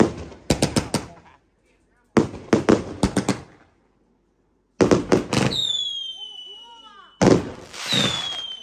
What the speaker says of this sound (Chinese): 农村可以放烟花